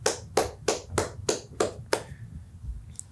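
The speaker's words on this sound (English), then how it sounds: "Add clapping sound right here." Seven sharp, evenly spaced claps ring out close and clear, a quick deliberate rhythm of roughly three per second, followed by a short quiet tail with a faint tap at the end.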